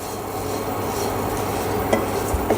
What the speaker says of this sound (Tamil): இப்போ இந்த அவலை வந்து நம்ம லேசாக வறுத்துக்கணும்.